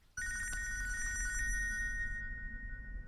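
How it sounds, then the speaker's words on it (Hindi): An office telephone rings out in steady electronic trilling tones at an outgoing call in an Indian film scene, starting abruptly and holding clear and loud over a low background hum. "कमिश्नर को फोन कर रहा हूँ।"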